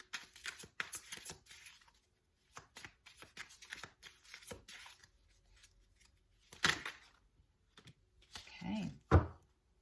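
Tarot cards are shuffled and handled up close in quick riffling bursts and soft taps, with a few louder slaps and thumps near the end.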